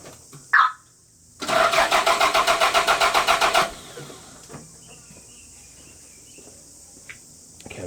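A Toyota MR2 engine cranks for about two seconds with a rapid, even starter rhythm, then catches and settles into a quiet idle, heard up close with a faint whine in the background and no talk.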